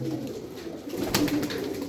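Pigeons from a Sarıkır flock cooing nearby, a soft low burble with a brief louder flutter partway through, no talking over it.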